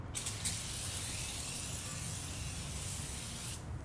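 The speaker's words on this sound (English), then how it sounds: "I'm going to spray the hot shine foam on the rubber" Continuous hissing spray of tire shine foam from an aerosol can onto tire rubber, close and steady for several seconds before cutting off.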